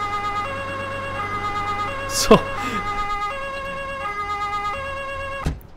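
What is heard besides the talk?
police siren switched on in a video game (Polizei-Simulator)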